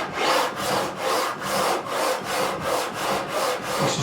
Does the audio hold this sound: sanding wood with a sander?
yes